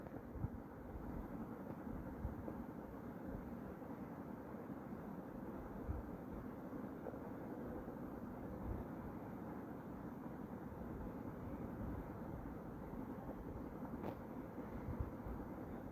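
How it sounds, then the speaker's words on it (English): A steady, muffled drone of an airplane in flight in the video game Call of Duty battle royale, like a cabin hum with rushing wind, continuing evenly throughout without voices. "We are in the airplane."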